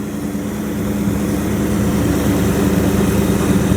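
A Chrysler 360 engine with an Edelbrock AFB carburetor runs steadily after its spark plug gaps were corrected, giving a loud, continuous low rumble close by with no clear rise or fall in revs and no voices.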